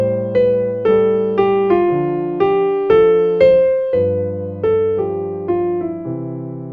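Lounge-style piano playing a song, a melody over a two-voice left-hand accompaniment, played steadily and close with clear repeated note attacks and no speech.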